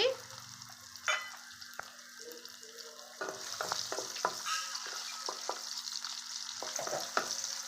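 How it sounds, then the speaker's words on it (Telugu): Thinly sliced onions fry in oil with bay leaf and whole spices for soya pulao, a steady close sizzle with a string of spoon scrapes and clicks against the pan, no voices. "ఇలా బాగా ఫ్రై చేసుకోవాలి ఉల్లిపాయని"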